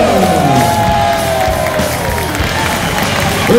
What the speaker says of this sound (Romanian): Aplauze pentru Costin Lasa!